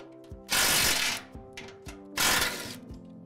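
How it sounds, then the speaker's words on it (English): Metal bolts being worked loose from the mount bracket of a Drago GT corn head, with sharp ratcheting clicks and two loud, rough grinding bursts from a power tool between quieter mechanical taps. "we'll have to remove these 2 bolts and reinstall"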